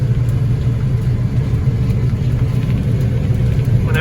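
A 40-year-old John Deere 7720 combine harvests milo, its engine a loud, steady, close rumble with slight fluctuations throughout and no voices.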